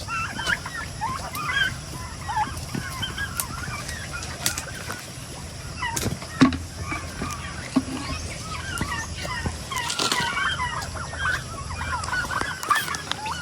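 Turkeys at a small farm pen feeding from the pigs' trough, giving close gobbling and fowl calls with some wing flapping and scuffling over a steady background.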